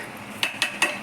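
A utensil stirs masala gravy with ground spice powder in a pan for a mushroom gravy, giving three quick metallic clinks against the pan over a faint background.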